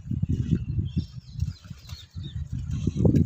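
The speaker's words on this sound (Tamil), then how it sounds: "காக்காயும் வந்து விட்டது." A crow arrives at cooked rice set out for it, with steady fluttering wing flaps and rustling close to the microphone for a few seconds.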